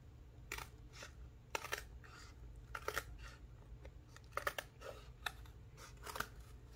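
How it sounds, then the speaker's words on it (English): Scissors cut through material for an eyeglass case in a series of soft, crunchy snips, spaced roughly every second, quiet and close over a low background hum. "And I'm wanting to cut it as straight as possible."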